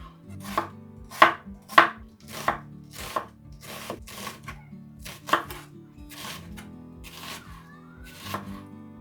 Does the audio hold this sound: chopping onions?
yes